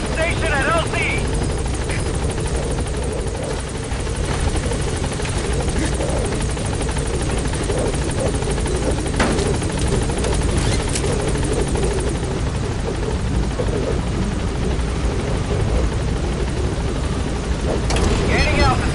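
Helicopter in the game Metal Gear Solid 5 arriving at a landing zone, its loud steady rotor thrum filling the whole stretch up close while radio voices talk over it.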